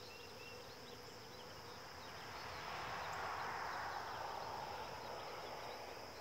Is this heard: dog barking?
no